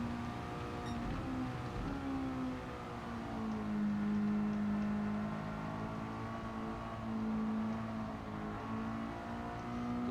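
Race car engine in the Gran Turismo 7 video game at Tsukuba in the rain, a steady droning tone that rises and falls as the throttle lifts and reopens through corners, loud and continuous with no talk.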